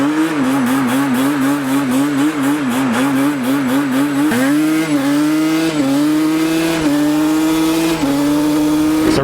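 A 2012 Yamaha Banshee replica ATV with a K&N filter in a sealed, snorkeled air box, ridden nearby with a loud, buzzy two-stroke engine revving in repeated rising pulls and shifts, steady and close, with no speech.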